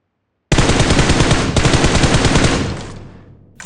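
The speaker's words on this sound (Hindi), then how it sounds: "कुछ गोलियों की आवाज़ आ रही थी।" Sustained automatic gunfire in the PUBG battle game, a dense rapid burst of shots lasting about three seconds, loud and close, then tailing off abruptly.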